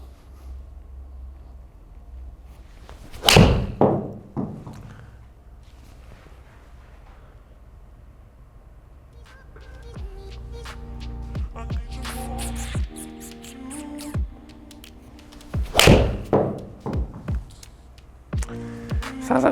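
Callaway APEX DCB irons striking golf balls outdoors, a few sharp, loud impact cracks spaced seconds apart, each with a peculiar twangy ring, between quieter background stretches.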